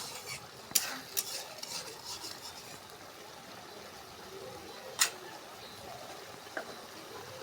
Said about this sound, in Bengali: আমরা ভালোভাবে মশলার সাথে পেঁয়াজটা কষে নিচ্ছি।